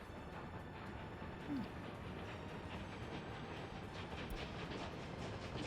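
Train rolling past in the city-building game Workers & Resources: Soviet Republic, a steady low rumble with faint rail clatter holding evenly throughout, quiet and unbroken, with no voices.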